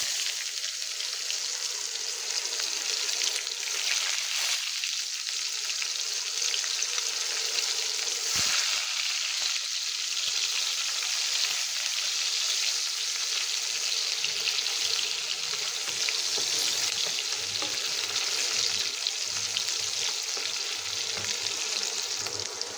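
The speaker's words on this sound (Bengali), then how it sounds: "পেঁয়াজটা হালকা করে ভেজে নিলাম।" Chopped onion frying in oil for a jackfruit, jackfruit seed, taro stolon and dried fish dish: a long, even, close sizzle with a soft hiss and occasional faint stirring knocks.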